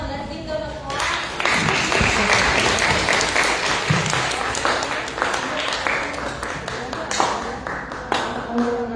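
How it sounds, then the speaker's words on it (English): An audience at a Saturday school end-of-year celebration and graduation claps steadily, many hands close and loud, with taps and a few voices mixed in. "let's give them a clap."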